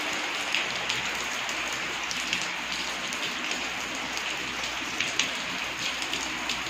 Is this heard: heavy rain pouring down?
yes